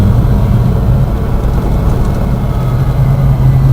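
A truck's 302 V8 engine idles close by with a steady, loud, deep rumble that holds an even pulse throughout, no voices over it.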